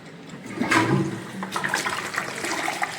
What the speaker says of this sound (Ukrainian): Ну що, вода набрала, спробуємо змивати.